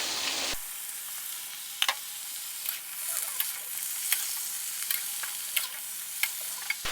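Baby bok choy stir-fried over high heat in a hot wok, a loud sizzle that bursts up as the vegetables go in, then steady frying hiss with sharp clicks and scrapes of stirring, no talking.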